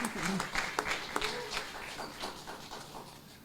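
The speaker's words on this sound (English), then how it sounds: "Give her a round of applause." Scattered applause at a Garifuna conference gathering, sparse individual claps near the start growing into a looser patter that fades, fairly quiet with faint voices and bursts of noise mixed in.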